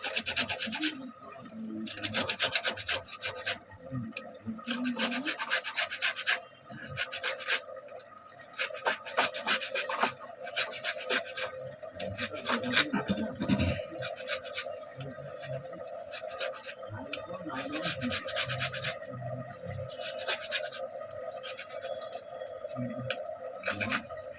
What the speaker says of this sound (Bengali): এটা ঘষে দিচ্ছি